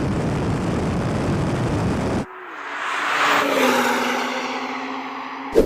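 A BMW M2 launching in a drag race with too much wheel spin, a loud engine roar that cuts out sharply, then rising revs and a whining tone fading into distance.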